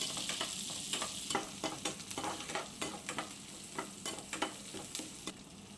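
About fifty grams of whole small onions and garlic sizzle steadily in a hot pan for a fish curry, with repeated scraping stirs of a spoon cutting through the continuous frying hiss, up close.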